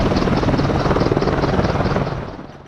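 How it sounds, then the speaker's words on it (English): A Boeing AH-64 Apache attack helicopter thunders overhead, its rotor beating in a fast, heavy rhythmic chop with turbine whine, loud and close before fading slightly at the end. "The Boeing AH-64 Apache is a powerful attack helicopter known for its versatility and combat capabilities."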